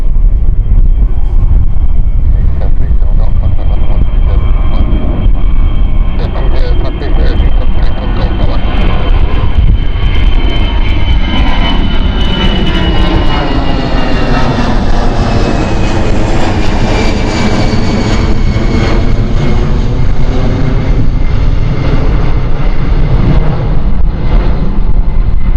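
Jet airliner on a Paris flight at Gatwick Airport, a loud sustained engine roar with rising whine that swells and sweeps past close by, wind buffeting the microphone throughout.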